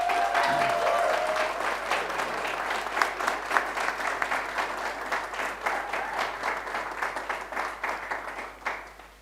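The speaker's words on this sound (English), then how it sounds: "Please put your hands together, give a massive round of applause" Audience applause for the third-place finisher at a live sommelier contest, a dense, loud wash of many hands clapping that fades gradually over about nine seconds.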